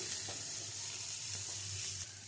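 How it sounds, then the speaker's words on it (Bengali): Julienned carrot and sweet corn fry lightly in a pan with a steady, soft sizzle throughout, and a few faint stirring scrapes stand out now and then. "দিয়ে এটা একটু হালকা ভাজা ভাজা করে নিচ্ছি"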